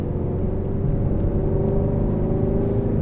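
A Ford Mustang GT350 engine runs at a steady, deep rumbling idle-to-low-rev drone with a constant hum, heard close from inside the car with no distinct rev spikes.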